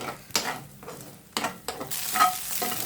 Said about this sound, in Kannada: ಇದು ಚೆನ್ನಾಗಿ ಸ್ವಲ್ಪ ಫ್ರೈ ಮಾಡ್ಕೊಂಬಿಡೋಣ ಇದನ್ನು